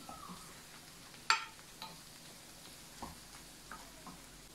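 Tomato paste sauce is worked around a pan with a few distinct scraping strokes and one sharp clink against the metal, over a faint low sizzle; quiet, close, and without any talking.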